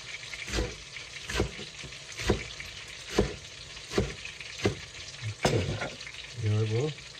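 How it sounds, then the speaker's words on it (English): King fish fries in hot oil for escovitch, a steady sizzle broken by regular louder pops and scraping strokes about once a second, with a brief murmur of voice near the end. "I have to experience how to fry this type of fish to make it dry"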